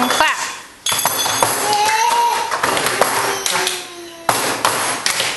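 Hand clapping to a children's song rhythm, sharp close claps in a repeating pattern alongside children's voices and talking.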